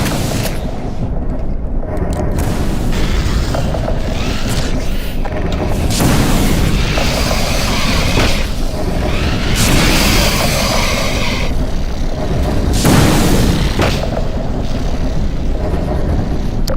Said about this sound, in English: The Vortigaunts' Dispel attack is a radial explosion that takes out a swarm of antlions.